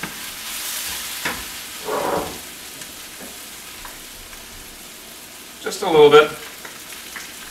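Mushrooms sauté in butter or olive oil, a steady close sizzle with occasional stirring scrapes, while a person speaks briefly over the frying.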